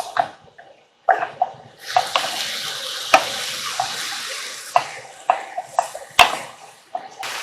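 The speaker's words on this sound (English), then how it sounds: "we're just stirring it occasionally here. Try to get all the spices mixed in." Meat sauce with spices being stirred in a pot on the stove for spaghetti, with a spoon scraping and clinking against the pot in repeated close strokes over a steady wet bubbling.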